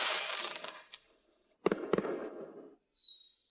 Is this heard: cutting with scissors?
no